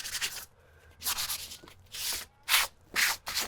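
A sanding sponge rubs across a blistered painted house surface, making rhythmic scratchy strokes in bursts, with short pauses between them, close and moderately loud.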